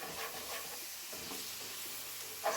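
Minced garlic stirred in a hot pan for a pizza burger casserole, a soft steady sizzle and hiss with faint scraping of the spoon, quiet and close.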